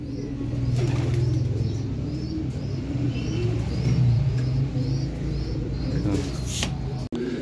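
Low, throaty pigeon coos roll on steadily with wind rumble and a bit of wing flutter, people talking nearby.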